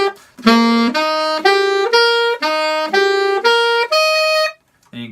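A single instrument plays a chord-tone scale exercise on root, third, fifth and octave, with evenly spaced sustained notes stepping up and back in a steady rhythm, clear and alone before a brief pause.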